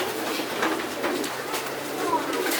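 Racing pigeons in a Texas loft give soft, steady cooing and rustling while a hen is picked up and handled nearby, with a voice speaking close over the birds.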